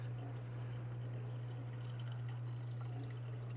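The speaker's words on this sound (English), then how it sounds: "when we do this pour, it comes out nicely and there is no mess to be made" Liquid poured steadily while cooking Spam and cheese, a soft continuous trickle under a strong low electrical hum, with no talking.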